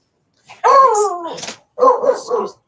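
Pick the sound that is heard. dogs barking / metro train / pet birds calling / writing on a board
dogs barking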